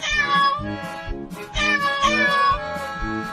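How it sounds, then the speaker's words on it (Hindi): Cartoon cat meowing repeatedly, a string of bright, drawn-out mews in quick succession, close and clear with nothing else behind them. "अरे चिंटू, वो देखो, बिल्ली अपने सभी बच्चों को हमारे घर लेकर आई है"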